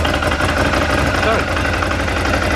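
A year-old Ducati Scrambler Desert Sled motorcycle engine fires up and settles into a steady, loud idle with an uneven mechanical throb, close by and continuous throughout.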